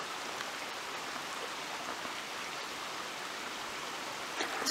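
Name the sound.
creek water flowing along a hiking trail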